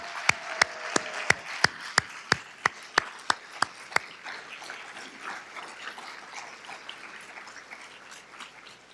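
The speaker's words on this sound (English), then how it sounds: "please stand and we'll give you a big round of applause" A seated audience stands and applauds at a community evening honoring people over 70: about a dozen loud, evenly spaced sharp claps lead off, then a softer spread of many hands clapping that slowly thins.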